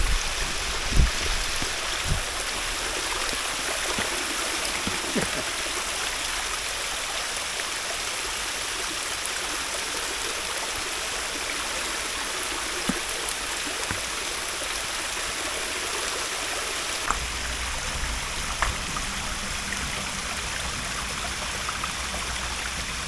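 A small waterfall on a jungle hillside near Baronda Devi pours into a stream, giving a steady, unbroken rush of flowing water with a few faint knocks and no talking.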